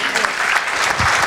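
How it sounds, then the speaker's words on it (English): Applause from a gala audience of the Pakistan Chamber of Commerce USA, a dense, steady wash of many hands clapping together, loud and close for the whole moment with no break. "We have a round of applause for her."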